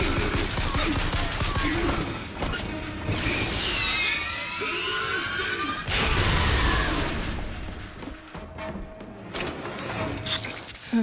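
Gunfire from the video game Bioshock Infinite, a dense ongoing battle with rapid bursts and crashing impacts layered over game music and effects, with voices calling out amid the fighting.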